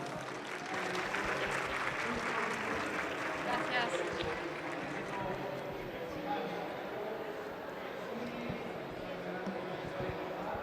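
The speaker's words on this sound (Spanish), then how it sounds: "Un aplauso para darle la bienvenida" Audience at a Recrea Academy 2023 talk on autism applauding to welcome the speaker, a sustained, moderately distant wash of clapping with murmuring voices beneath.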